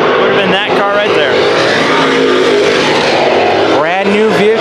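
Race car on a Rage chassis rolling into the pits at Arizona Speedway, its engine revving loud and close in rising and falling bursts, with a commentator talking over it.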